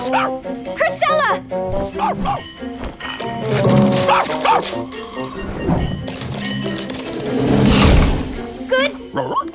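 A dog in an animated children's story barks and yips among thumps and bustle, the bursts coming repeatedly over nearly ten seconds, loud and close, mixed with talking voices and music.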